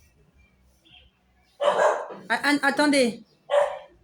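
A dog barks in a short burst of several yips indoors, with someone speaking briefly at the same time.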